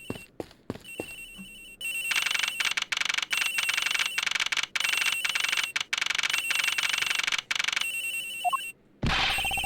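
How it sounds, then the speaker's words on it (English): A telephone rings in a detective video game set aboard a plane, a loud electronic bell trilling in repeated bursts with brief gaps, after a few scattered clicks. "It sounds like the phone is up in the flight attendant's room."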